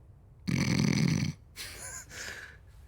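A human voice imitates loud snoring, one long, deep, rasping snore followed by two softer, grumbling snorts, close and alone.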